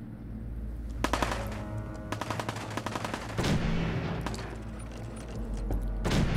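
Rapid bursts of automatic gunfire crackle through Fallout 4 gameplay, coming in repeated rattling volleys with single heavier shots between them, fairly loud with a game soundscape underneath and no talking.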